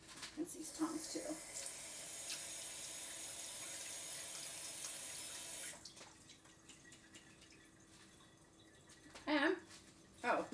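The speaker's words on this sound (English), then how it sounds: "Let me rinse these tongs too." Tap water runs steadily into a kitchen sink while tongs are rinsed, a continuous rushing splash that stops partway through, followed by quieter handling and a few clinks.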